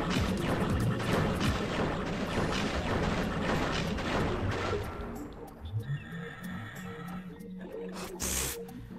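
Explosions and crashing bursts in Crash Bandicoot: The Wrath of Cortex, with dense loud blasts and hissing debris in the first half, then settling into quieter game sounds with a few thuds and a final burst.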